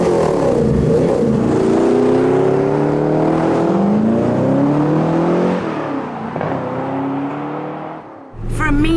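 A 6.6-litre V8 engine of a coupe starts and revs loudly and close up, its pitch climbing and falling through several throttle blips before dropping away.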